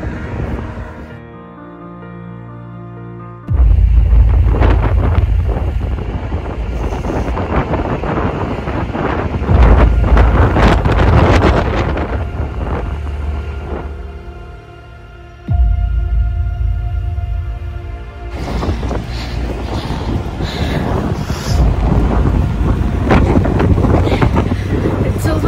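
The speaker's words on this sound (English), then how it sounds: "And it's super windy." Strong wind buffets the microphone in loud, roaring gusts that rise and drop during a snowstorm in Canada, with a brief quieter stretch in the middle.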